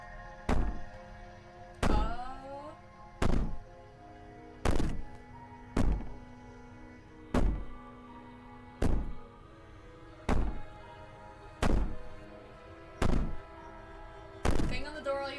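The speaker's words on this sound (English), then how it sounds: "Bang on the door all you want, it'll only make you bleed out faster." Someone bangs on a door in the video game Slay the Princess: about eleven heavy, evenly spaced thuds, each with a short booming tail, over a quiet background.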